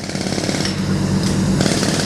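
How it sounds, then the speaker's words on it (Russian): Compressor-driven jackhammers break apart the worn old support caps of a bridge, making a loud, continuous rapid hammering clatter with a steady engine drone underneath and no speech. "Старые основания снимают с помощью компрессора с отбойными молотками."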